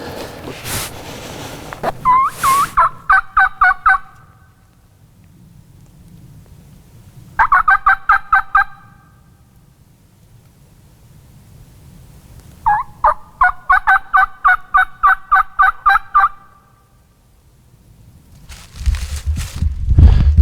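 Wild turkey gobbling in answer to a hunter's call, three separate loud rattling gobbles at moderate distance with quiet gaps between them, then a few closer rustling noises at the end.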